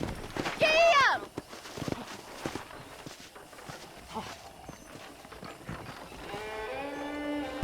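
Horse hooves clip-clopping at a steady walking pace on a ranch in Red Dead Redemption on Xbox 360, moderately close, with a horse whinny near the start and a low drone of other sound under the hoofbeats.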